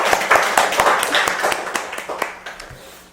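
An audience claps during a Sunday Buddhist service, a brief round of distinct hand claps starting strong and tapering off over about three seconds.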